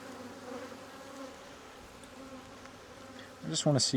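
Honey bees buzz steadily around an open beehive during an apiary inspection of a previously queenless colony, a faint continuous drone that swells loud and close near the end as bees pass by.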